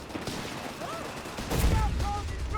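Gunfire and mortar fire in the strategy game Company of Heroes 3, a steady clatter of shots with heavier booming impacts swelling in the second half, mixed with game effects and faint voice snippets.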